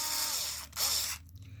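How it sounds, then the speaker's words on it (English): A cordless drill whirs as it drives a 2mm socket head screw into a Traxxas Maxx 4S shock: two short, quiet high-pitched bursts separated by a brief pause. "Grab your drill, being very careful not to strip it out."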